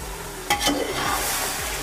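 Chicken pieces dropped into masala frying in a pan for white chicken pulao, a soft thump followed by steady sizzling and stirring that continues alone at moderate level.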